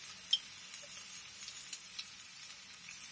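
Schezwan sauce hits cooked capsicum (bell pepper) in a hot pan, making a faint, soft sizzle with a few light clinks of utensils against the pan.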